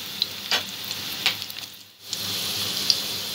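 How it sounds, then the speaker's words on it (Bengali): Potato pieces fry in hot oil, a close, steady sizzle with a few bubbling pops and stirring scrapes, briefly dipping near the middle before the frying noise returns, with no talking. "আলুটা ভাজা হয়ে গেছে। এই অবস্থায় আলুটা তুলে নেব।"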